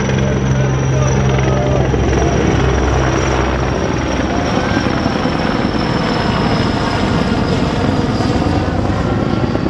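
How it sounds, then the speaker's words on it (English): A propeller plane passing overhead near an airport during an under-16 baseball game in Melbourne, a loud continuous engine drone filling the air while a commentator talks over it. "Probably hear that plane up above us."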